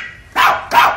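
A sampled Chihuahua bark triggered from a 1984 Simmons electronic drum kit sounds twice in quick succession, two sharp, bright yaps close and loud with no talking.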